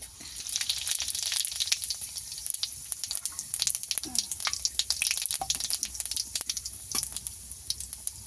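Whole garam masala and a little cumin spit and sizzle in hot oil in a heated kadai, a dense steady crackle of frying with sharp pops throughout, close and fairly loud, no voices.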